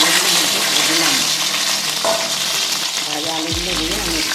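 Fried potatoes stirred in a pan with bay leaf, dried chilli and whole garam masala for a jackfruit curry: steady loud sizzling with scraping spatula strokes throughout, and a low thud near the end.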